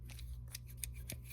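Crescent Wiss Tradesman shears, freshly tightened, snip open and shut several times in a quick, quiet rhythm of small metallic clicks close by, with no talk.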